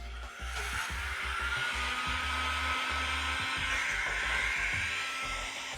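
A hot air blower set to about 300 degrees heats vinyl wrap on a BMW F30 during a body kit install, giving a continuous, loud, even rushing roar throughout.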